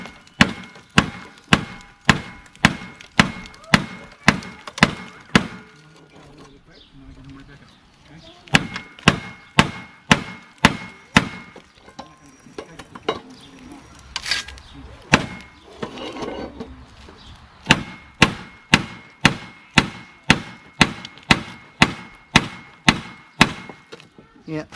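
Hammer taps on a bolt threaded into a lawnmower crankshaft to loosen a stuck self-propulsion adapter, a steady run of sharp metallic knocks in bursts with short pauses, close and loud.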